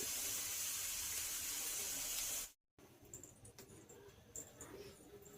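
Steady rushing water pours into a pressure cooker for a couple of seconds, then cuts off, leaving quiet clinks and faint kitchen sounds.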